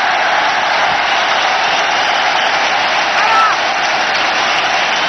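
A cricket stadium crowd roars and applauds for Sachin Tendulkar's century against Australia, a dense, sustained wall of cheering heard from within the stands.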